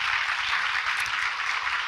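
Steady applause from an audience at a film actor's talk event, a continuous even wash of clapping at moderate volume with no voices standing out.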